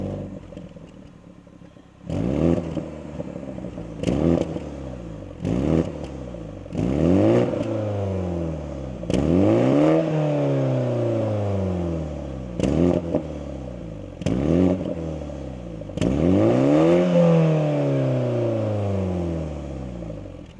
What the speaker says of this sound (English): let's quickly take a listen to them, because the 4-cylinder actually has quite a lot of emotions and characteristics